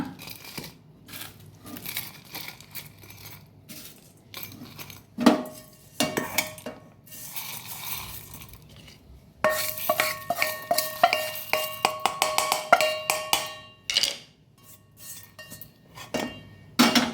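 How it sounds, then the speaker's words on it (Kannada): Clinking and scraping of utensils against a container, with scattered taps and clatter as food is scooped in, pausing briefly between bursts. "ಇದನ್ನೀಗ ಒಂದು ಮಿಕ್ಸಿ ಜಾರಿಗೆ ಹಾಕೊಳ್ಳೋಣ."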